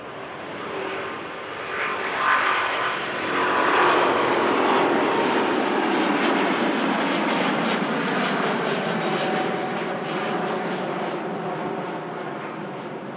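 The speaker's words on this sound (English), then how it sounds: "And now the 350 is on the roll." Airbus A350 on its takeoff roll at Manchester Airport in thick fog, a loud broadband engine roar that swells within the first few seconds and holds strong and steady, slowly fading toward the end.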